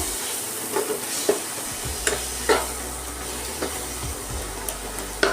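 Chopped banana flower is mixed by hand with a spice blend of hot chilli and Kashmiri chilli, making soft wet squelching and stirring sounds with scattered light taps, close up and with no talking.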